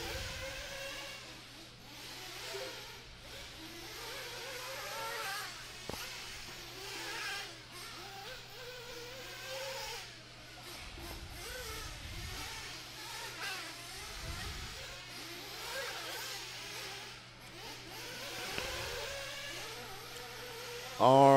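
Electric RC buggies whine around an off-road race track, the high motor whirs rising and fading as the cars pass, while an announcer keeps talking over them.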